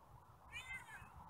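A cat meows indoors, a short, fairly close call rising and falling over steady low background noise.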